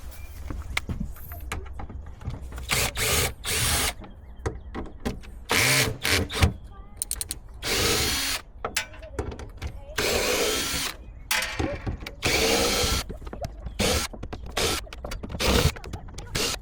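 A drill backs screws out of a boat deck hatch in many short, loud whirring bursts with scraping between them, and some talk is mixed in.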